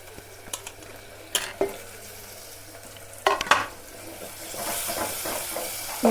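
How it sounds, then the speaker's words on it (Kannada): Onions and tomatoes fry with turmeric in a pan for chicken curry, a crackling sizzle broken by sharp scrapes and clinks of stirring that grow into a louder hiss toward the end. "ಇವಾಗಿದ್ದು ಉಳ್ಳಾಗಡ್ಡಿ ಮತ್ತು ಟೊಮೆಟೊ ಫುಲ್ ಕರ್ದೈತಿ"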